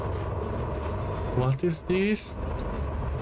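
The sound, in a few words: train passing in the video game INDIKA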